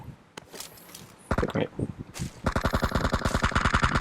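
Rapid automatic gunfire from a video game bursts in after a few scattered shots and quieter rustling, firing in a fast steady stream near the end.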